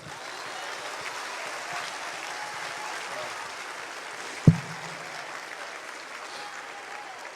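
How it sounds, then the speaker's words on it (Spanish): A church congregation at a Christian sermon applauds steadily, a dense even wash of clapping that holds its level throughout, with one sharp thump partway through. "Un aplauso al Señor"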